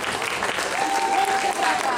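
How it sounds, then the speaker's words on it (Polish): A crowd applauds the boys after an under-12 breakdance final at a dance competition, producing a continuous loud wash of clapping and cheering with voices mixed in throughout. "Wielkie brawa dla chłopaków."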